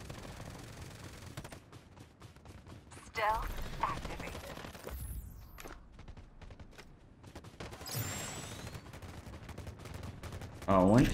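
Bursts of Farlight 84 gunfire crackle in short rapid volleys over several seconds, some louder and closer, others distant, mixed with game clatter and a few speaking voices.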